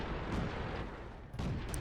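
An FCM 36 Pak 40 tank destroyer in World of Tanks fires two shells, each a heavy booming report over constant engine rumble, the second sharper near the end.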